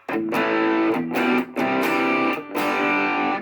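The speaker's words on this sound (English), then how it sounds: "So let's compare that with something like, an Electro Harmonix Soul Food." Electric guitar through an Electro Harmonix Soul Food distortion pedal, a loud mid-heavy, focused overdriven tone playing sustained chords in three strummed phrases separated by brief gaps, with no talk.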